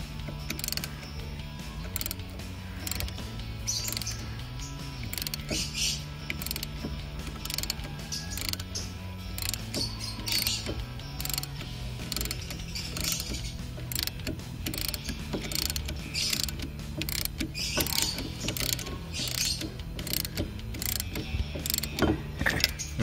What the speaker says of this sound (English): Now as I start to tighten it, look at that piston moving back in there.